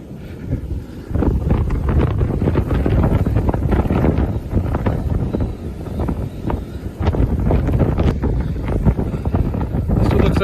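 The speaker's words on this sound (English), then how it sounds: "These gusts are 40, 50 miles an hour." Strong wind gusts of 40 to 50 miles an hour blow outdoors in snow, roaring and buffeting against the microphone in loud, continuous surges.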